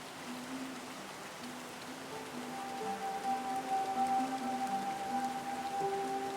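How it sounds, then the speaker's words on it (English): Steady autumn rain on a farm in Portugal patters on surfaces in a soft continuous hiss, with faint tonal hum running underneath. "Autumn is finally here, and with it came a lot of rain."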